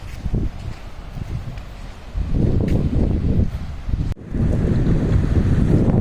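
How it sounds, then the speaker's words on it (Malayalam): Strong gusting wind buffets the microphone on a Maldives seashore at low tide, with low roaring surges rising and falling throughout and a brief sudden drop near the end; no voices. "നല്ല കാറ്റുണ്ട്"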